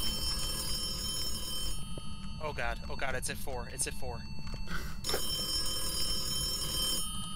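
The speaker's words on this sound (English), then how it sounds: "Answer the phone!" A telephone rings inside the Phasmophobia ghost-hunting video game, a steady electronic ring persisting under excited players talking over one another, with a short burst of sharper sound midway.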